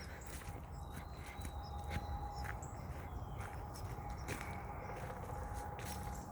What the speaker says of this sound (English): you can hear mama birds as they're teaching